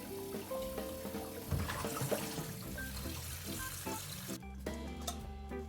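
Water splashes and trickles as cold-rinsed noodles drain in a colander, a close, irregular patter with scattered clinks, fading to quieter dribbles near the end.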